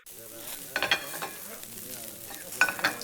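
Busy diner kitchen at lunchtime, with dishes clattering and food cooking: a faint sizzling bed runs under a few sharp metallic clinks and clatters, two short bursts spaced apart.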